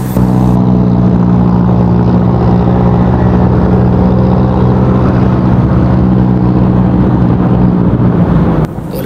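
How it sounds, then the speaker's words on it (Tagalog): Jeepney engine roaring on an uphill climb toward Tagaytay, a loud, continuous, labouring drone heard close by on the road, with steady wind and traffic noise and a brief change near the end. "narinig niyo yung jeep kung umatungal"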